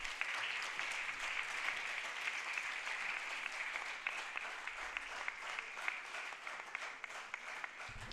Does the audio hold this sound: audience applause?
yes